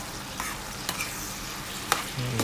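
Spicy chicken pastil is stirred in a hot pan, with a steady sizzle and a few sharp scrapes and clinks of the utensil against the pan.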